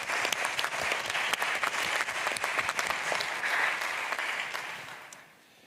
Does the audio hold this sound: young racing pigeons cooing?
no